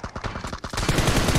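Rapid bursts of automatic gunfire in the battle royale game PUBG, a run of close, loud shots in quick rhythm that grows denser and heavier toward the end, with no talk.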